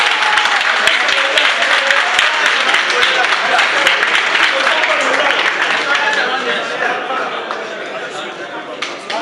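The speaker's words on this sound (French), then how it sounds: "on applaudit" Loud, dense crowd applause at a trophy presentation, continuous clapping from a large group that stays strong throughout and eases slightly near the end, with some chatter underneath.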